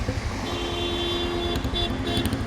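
Steady highway traffic on the flooded Jalandhar–Chandigarh main road near Khatkar Kalan, a continuous broad rumble of passing vehicles with a faint horn-like tone running through it.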